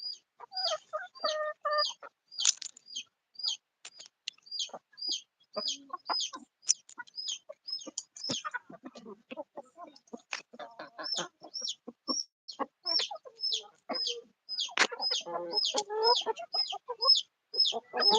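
Chickens on a poultry farm cluck and chirp constantly close by, with many short overlapping calls and a few louder squawks, alone without talk.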